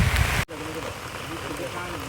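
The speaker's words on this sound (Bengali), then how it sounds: "এর মধ্যে বৃষ্টি বাই পড়ছে" Steady rain pours outdoors near a wetland, a dense even hiss of drops hitting surfaces. The sound briefly cuts out near the start, then carries on unbroken.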